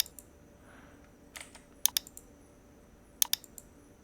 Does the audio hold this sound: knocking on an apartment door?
no